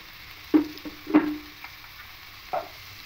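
A spoon or spatula stirs potatoes with salt and chilli powder in a pan, giving a few short, close scraping strokes with a faint sizzle between them and no talking.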